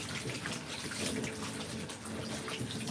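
Steady running water pours over a Maine Coon cat being rinsed during a bath, a continuous close splashing wash with no talking.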